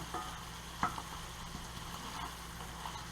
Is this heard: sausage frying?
yes